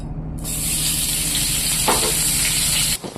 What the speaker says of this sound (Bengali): এবার পেঁয়াজটাকে দিয়ে দিলাম।